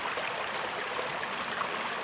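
A mountain creek rushes over big boulders under clear skies, a steady, broad, hissing wash of flowing water heard close and unbroken throughout, with no talk.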